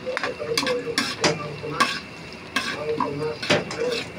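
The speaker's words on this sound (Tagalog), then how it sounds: "Tapos, sama na natin ang ating carrots" Carrots stir-fried in a pan, with a steady sizzle broken by repeated sharp scrapes and clanks of a utensil against the pan, close by, while a voice speaks faintly at times.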